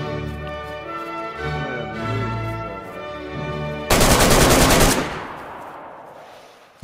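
A short, loud burst of automatic gunfire in the video game DayZ rings out alone after a stretch of music-like tonal game audio, then fades into a decaying echo.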